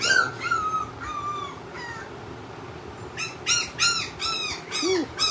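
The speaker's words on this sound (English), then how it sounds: "There's some little puppies." Two-week-old Chocolate Labrador puppies whimper and squeak in a series of short, high, wavering cries, a few at a time with brief pauses between them, close by over a steady low background hum.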